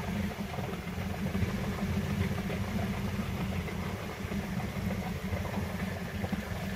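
A vehicle engine keeps running steadily while driving slowly through deep water, a continuous low rumbling hum with a little vibration, close and fairly loud, with no talk.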